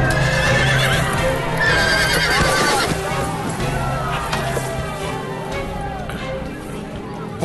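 Horse whinnying loudly and repeatedly over clip-clopping hooves, in a busy setting with murmuring voices in the background, from a historical drama where riders try to break and mount a wild horse.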